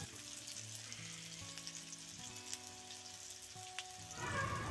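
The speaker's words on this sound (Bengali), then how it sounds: "এখানে আমি পেঁয়াজ কাঁচা লঙ্কা যেটা দিয়েছি, এবং এটাকে প্রায় 5 মিনিট মতো আমি ভাজবো" Onions and chopped green chillies with bay leaves frying in oil in a pan for chicken curry, a steady close sizzle that grows louder near the end, with no voices.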